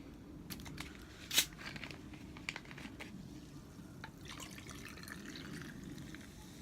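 Gin and tonic is poured over ice in a glass, making soft fizzing trickles and one sharp clink of ice early on, then light settling crackles. The sound is quiet and close, with no talking.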